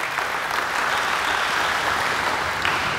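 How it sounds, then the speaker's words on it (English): A small group at a coaching clinic gives a participant a round of applause, a steady, dense patter of clapping that holds evenly throughout with no voices. "give her a clap"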